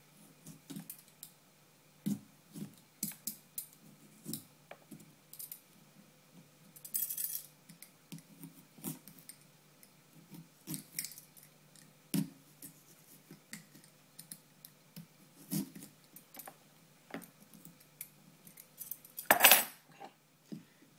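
A peeler scrapes and clicks against a pumpkin in short, irregular strokes, crisp close-up scratches separated by quiet gaps, with one louder clatter near the end.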